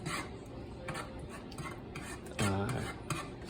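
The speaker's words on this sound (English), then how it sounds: "just stirring in now is some garlic" A utensil stirs finely diced garlic into a pan of sizzling marinated steak for Asian pepper steak, with close scraping and clinking against the pan, a steady frying hiss and one louder scrape near the end, with no talk.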